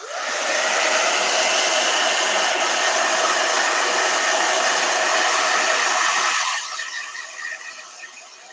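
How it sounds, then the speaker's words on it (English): A hair dryer blows steadily at full power for several seconds, then its roar drops to a lower, quieter setting near the end. "Blow dryer."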